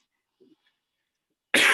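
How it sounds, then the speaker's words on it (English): A single sharp, loud cough bursts out abruptly at the end, preceded by near silence and a faint murmur, from a person still recovering from bronchitis. "excuse my cough. I'm getting over bronchitis."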